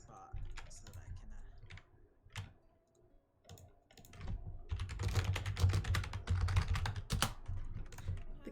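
Computer keyboard typing during a Final Fantasy XIV gaming session: scattered clicks at first, then a dense, fast burst of keystrokes, close and fairly quiet.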